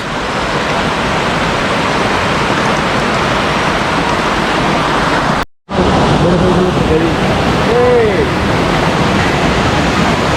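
A river rushes constantly beside a rocky trail near Sukabumi, a loud, dense roar of flowing water that cuts out for a moment midway, with faint birdlike chirps later.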